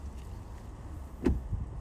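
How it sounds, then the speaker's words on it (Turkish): A Hyundai IONIQ 9 door shutting with a single solid, dull thud, close by in a quiet setting, followed by a faint softer knock. "Tabii ki çok tok bir kapı, kapı sesi var."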